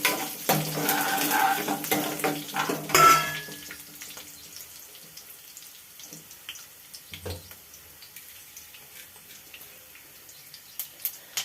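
Dried red chillies frying in hot oil in a home kitchen pan, a loud burst of sizzling and stirring in the first few seconds that quickly settles into a faint, steady crackle.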